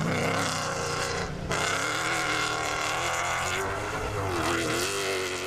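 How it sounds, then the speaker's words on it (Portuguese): A Toyota Hilux Overdrive rally truck races in the Baja de Porto Alegre, its engine droning loudly and steadily with shifting pitch as it accelerates, a brief dip midway, and faint voices beneath. "João Ramos deixou de vez o Rave 4 e apostou agora numa evolução competitiva do Toyota Hilux Overdrive e não poderia desejar um melhor início na baja de Porto Alegre"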